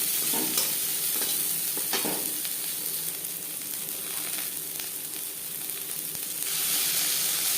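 Chopped onion fries in a little mustard oil in a pan, giving a steady, dense, close sizzle that runs throughout with occasional stirring scrapes and no voices.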